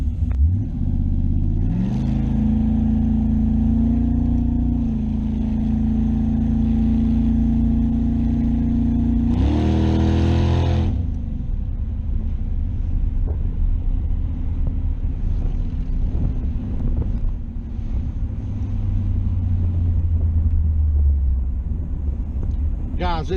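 A Chaos Theory Camaro race car engine roars at wide open throttle, a loud, deep drone with rising revs and a sharp surge midway before settling to a lower rumble; a voice talks over it.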